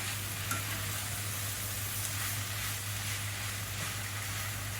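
Noodles with vegetables being stirred in a pan over high heat, giving a steady, close sizzle and frying hiss throughout with no talk.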